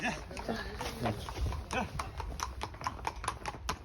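Horses clip-clop along a forest path at a recreation area, a steady irregular run of hoof knocks, moderately close, with people talking over the start.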